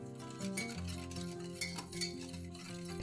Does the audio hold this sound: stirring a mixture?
yes